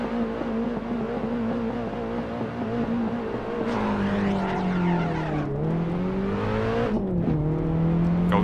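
BMW in an Assetto Corsa drag race against a Fiat, manual transmission: a loud, steady engine hum that swells into revving, with pitch sweeping and dipping through gear changes, close and alone.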